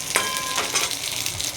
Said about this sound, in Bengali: এরকম করে আমরা সব মাছগুলো ভেজে নেব